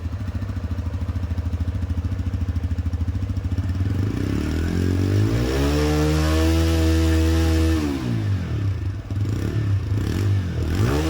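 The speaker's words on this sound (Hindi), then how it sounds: "ये रहा उसका एग्जॉस्ट। अभी चलिए देखते हैं साउंड कैसा है," A TVS Raider 125 BS6 motorcycle exhaust, a close, loud single-cylinder idle putter that revs up smoothly, holds high, then drops back toward idle.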